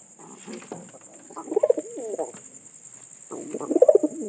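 A newly acquired pigeon coos in two rhythmic bursts of throaty, warbling calls separated by a short pause, close and clear over a faint steady high tone.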